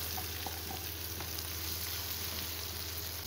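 Diced potatoes drop into hot frying oil already holding crushed red chilli flakes, giving a steady close sizzle with soft stirring clicks and no one talking.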